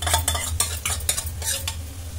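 Ginger garlic paste and onions fry in a pan for a mutton brain masala fry. A spatula scrapes in quick repeated strokes over a continuous sizzle, close and fairly loud.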